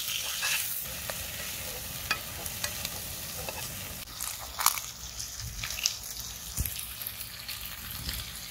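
Onions and fish pieces fry in a pan while being stirred, a close sizzle broken by scraping and clattering utensil strokes at irregular intervals, no voices.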